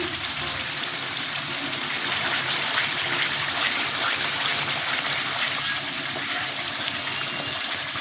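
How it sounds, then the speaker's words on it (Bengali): Water pours steadily into a pot of katla fish curry as it cooks, a continuous close gushing stream that holds at an even level the whole time, with no talk. "জল দিয়ে দিচ্ছি।"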